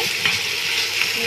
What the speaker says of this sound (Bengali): পেঁয়াজ কুচি আর সামুকটা যতক্ষণ না ভাজা হচ্ছে ততক্ষণ আমি এইভাবে